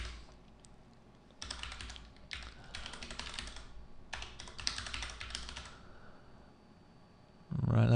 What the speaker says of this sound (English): we just need to type it in here